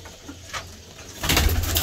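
A feather-footed pigeon coos softly up close, a low murmuring call, followed by a brief louder rustle near the end.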